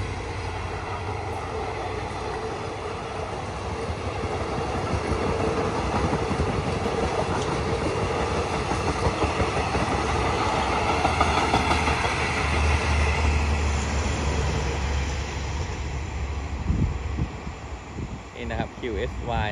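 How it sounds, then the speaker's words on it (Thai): A Chinese-built QSY 5235 diesel locomotive hauls rapid train 171 on the Bangkok Aphiwat to Su-ngai Kolok line near Ban Meng, passing under an elevated bridge. It gives a continuous close rumble with wheel clatter and a steady engine drone throughout. "วันนี้ทำขบวนโดย QSY 5235นะครับ"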